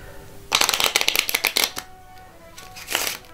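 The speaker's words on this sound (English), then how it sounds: "Now we'll proceed to give the deck a shuffle." A deck of playing cards is shuffled close by: a quick burst of riffling flutters followed by a couple of shorter snaps and rustles, with no talk.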